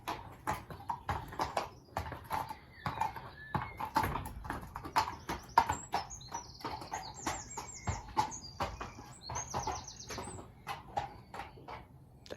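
A horse paces and stamps its hooves inside a horse box, giving a steady run of irregular knocks and thuds close by, with birds chirping in the background and no talking.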